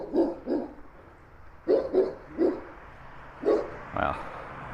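A big dog barks from somewhere nearby on a residential back street in East Innisfail, giving a series of deep woofs in irregular bursts, some doubled, at moderate distance.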